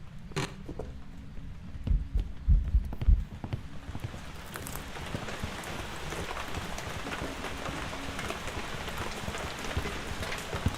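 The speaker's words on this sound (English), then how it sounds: "I don't like it when it's raining on this map." Steady rain patters in the video game Phasmophobia, a dense even hiss that follows a few louder thumps and knocks at the start and then carries on alone.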